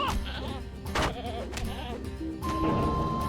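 Goats bleating in the LOTRO video game, several wavering nasal cries close together over a steady game backdrop, with a brief tone near the end.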